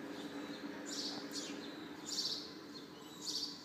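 Outdoor birds chirp in short, repeated bursts at moderate distance over a quiet background hum, with no one talking.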